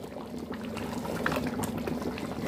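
A pot of seer fish head curry bubbles at a steady boil, with a dense, close simmering gurgle and small pops running continuously throughout.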